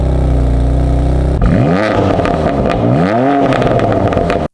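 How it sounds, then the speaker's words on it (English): BMW M2 Competition straight-six roaring loud through its quad exhaust: a steady drone that breaks into two sharp revs climbing and falling back, close by and with no talking. "Both feature a quad exhaust setup which sounds like this in the M2"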